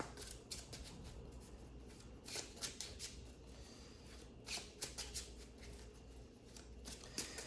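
A deck of Yu-Gi-Oh cards being shuffled repeatedly, with bursts of riffling and soft papery flicks recurring in quick clusters, close and fairly quiet.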